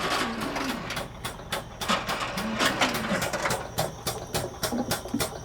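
Oil pump of an AGA Tools Ford mobile service kit running in a van, a rhythmic mechanical clatter with fast repeating ticks and whirring pulses, close and steady without speech.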